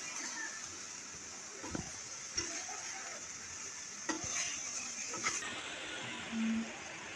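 Chicken pieces fry in a pan with soy sauce and no added water, giving a soft sizzle under a few sharp stirring clinks and scrapes, fairly quiet overall.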